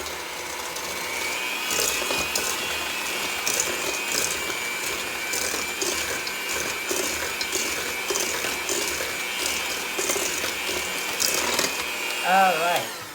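An electric mixer whirs steadily through shortbread cookie dough, a continuous close motor drone with faint knocking of beaters against the bowl, running throughout before slowing at the end.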